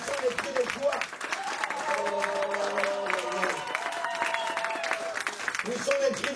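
A church congregation applauds and cheers in praise of Jesus, dense sustained clapping from a large crowd, while a preacher speaks and sings over it.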